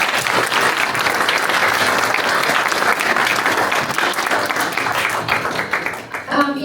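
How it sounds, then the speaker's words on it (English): An audience at a candidates' event breaks into loud, sustained applause, dense clapping from a crowd that holds steady before thinning out near the end. "Give them a round of applause."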